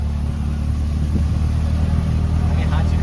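An auto-rickshaw engine drones steadily during a ride in heavy rain, a loud continuous low hum with faint voices talking underneath.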